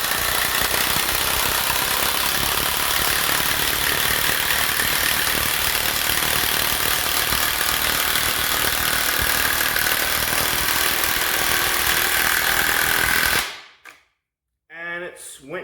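An Ozito 18V three-speed 400Nm impact wrench drives a 200mm batten screw into seasoned hardwood. Its loud, steady hammering rattle runs unbroken for about thirteen seconds, then stops abruptly, and a person speaks briefly afterward.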